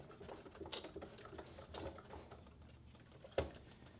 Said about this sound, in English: Rotate 90 degrees and continue sewing